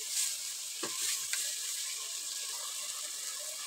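Red chili powder and cumin stirred into hot oil in a frying pan for a potato and egg curry: a steady close sizzle with a few soft scraping stirs early on, no voices.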